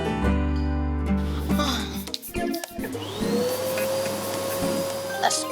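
A vacuum cleaner in a home drones loudly, its motor note changing pitch and sliding as it runs, with bursts of clatter and a steady whine continuing to the end.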